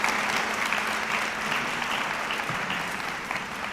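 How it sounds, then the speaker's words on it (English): Steady, dense applause from an audience at a senior awards ceremony, continuous clapping at an even level with no pauses or talk. "Let's give another round of applause for all of our seniors."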